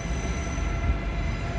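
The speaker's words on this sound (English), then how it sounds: "Over here, here's the Eurostar class 374." Eurostar class 374 high-speed train at London St Pancras International, a steady low rumble and hum of the train close by with faint wheel squeal, continuous throughout without speech.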